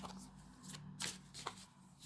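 A deck of tarot cards is shuffled close by in soft papery riffles and quick slapping bursts, a few distinct flurries over about two seconds. It is quiet, with no talk.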